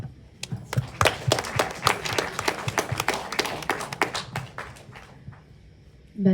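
A small audience at a cinema event claps, sparse individual hand claps building into a short uneven round of applause that fades out after a few seconds, fairly close and without talk.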